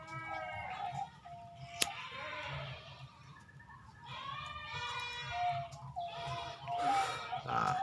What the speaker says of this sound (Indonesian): Nah, ini perkutut Australia manggung itu.